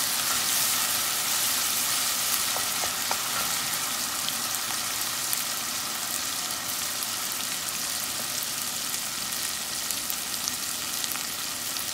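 Cornmeal with onions frying in a pan, a steady broadband sizzle with faint crackles running evenly throughout, close and continuous with no voices.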